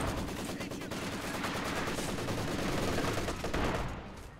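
Maxim machine gun in a video game rattling off a long, dense stream of rapid shots at steady volume for several seconds, easing off near the end.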